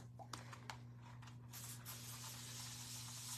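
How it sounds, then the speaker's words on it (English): A spray bottle mists a wooden craft surface in a few quick hissing bursts, followed by a steadier, softer hiss, close and fairly quiet. "I'm going to spray this really quick over here"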